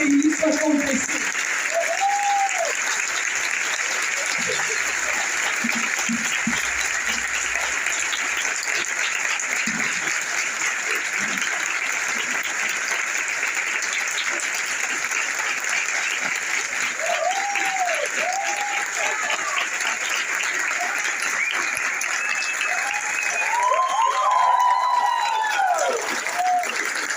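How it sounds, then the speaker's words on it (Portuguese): Audience applause at a talk on Maria Montessori and education for peace, a long steady wash of clapping that continues throughout, with a voice briefly rising above it now and then. "Palmas para vocês!"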